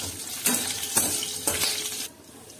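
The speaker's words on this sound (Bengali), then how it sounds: "গোটা জিরে আর কাঁচা লঙ্কার ফোড়ন দিয়ে দিলাম। এটা একটু হালকা করে ভেজে নেব।" Whole cumin, green chillies and bay leaf sizzle in hot oil for a Bengali mixed-vegetable dish. A steady close frying hiss runs throughout, with a few soft stirring strokes, then the sizzle drops off sharply near the end.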